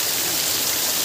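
A very tall waterfall roars as a dense, steady wash of rushing water, loud and unbroken from start to finish.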